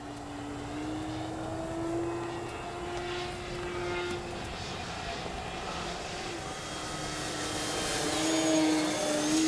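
Electric motor of a Flex Aviator 40E RC airplane whining steadily in flight, a sustained tonal hum with slight pitch drift that swells louder near the end, heard alone outdoors.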